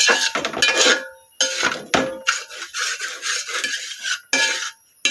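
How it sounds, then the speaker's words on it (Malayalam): A sesame snack mixture is stirred in a pan with a utensil, giving repeated close scraping and rubbing strokes against the metal in several bursts, with no talk over it. "ഇതിങ്ങനെ നന്നായിട്ട് ഇളക്കി കൊടുക്കണം."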